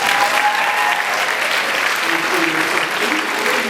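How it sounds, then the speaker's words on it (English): A pageant audience claps for the contestants after the on-stage question round, a broad sustained wash of many hands filling the hall, steady throughout with faint voices underneath. "How about another round of applause for the girls?"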